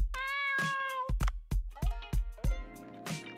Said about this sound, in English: We can feed the cat.